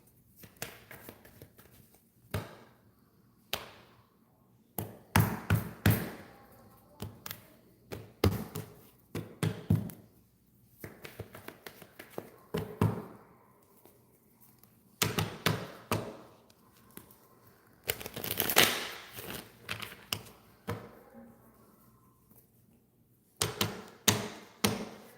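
Tarot cards being shuffled in bursts of riffling, slapping and tapping, several loud clusters separated by short pauses across the stretch, close to the microphone with no talk.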